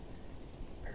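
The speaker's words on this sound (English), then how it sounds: "The rain, it's not even that loud." Rain falls during a thunderstorm as a steady, soft, even hiss that fills the background, with no voices.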